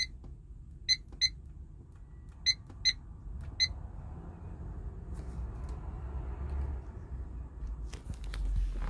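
An aftermarket radio in a 2006 Ford Explorer gives several short, sharp electronic beeps in quick pairs and singles, followed by low cabin rumble and faint handling noises.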